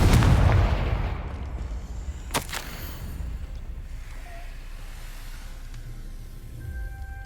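A Confringo fire-blast spell bursts in the Hogwarts Legacy video game: a loud booming blast at the start, then a second sharp crack, with a rumbling tail that fades into quiet ambience.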